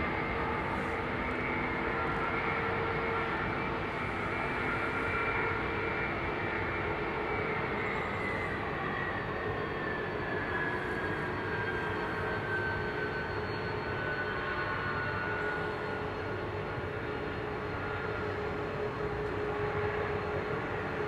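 Engines on a Boeing 767-300ER run up at Heathrow, a loud, unbroken jet roar with a sustained whine that slowly rises and shifts in pitch, holding steady for the whole stretch with no talk.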